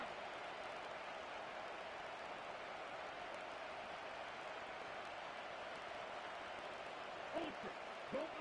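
Crowd noise in a Madden football video game, a dense, steady wash of stadium cheering and applause that holds evenly throughout at moderate level, with brief voice sounds near the end.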